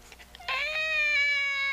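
A character in an animated Christmas toy story imitates a cat's meow, a single drawn-out, tonal mewing cry heard close and clear after a few faint sounds, with no talking over it.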